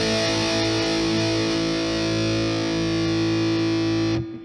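Electric guitar played through a Carl Martin DC Drive overdrive pedal with gain fully up: a single heavily distorted sustained chord ringing loudly, then cut off abruptly near the end, with no talk.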